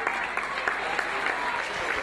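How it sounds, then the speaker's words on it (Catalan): An audience applauds dancers Estela and Mònica at a paso doble performance during a local youth festival, with steady, dense clapping close by that lasts throughout. "Un fort aplaudiment per a elles."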